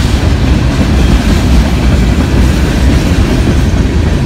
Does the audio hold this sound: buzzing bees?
no